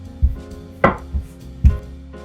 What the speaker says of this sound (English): we're just gonna roll it out on a lightly dusted surface